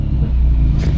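A BMW 1 Series pulling into a garage gives off a loud, close, steady low engine and exhaust rumble that holds for about a second without a break.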